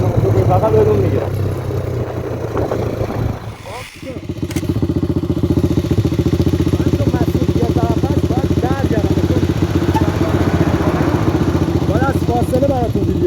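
A Sunny motorcycle ridden on a test ride and leaned into turns, its engine droning steadily and close, briefly dipping before settling into an even hum, with someone talking over it throughout.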